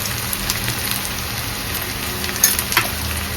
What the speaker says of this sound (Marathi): आता कांदा व्यवस्थित परतून घ्यायचा व्यवस्थित लालसर होऊन द्यायचा